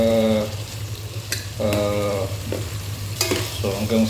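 Garlic and onion sizzle and fry in a hot pan while being stirred, with a steady frying hiss and bursts of scraping stir strokes every second or so, close and fairly loud.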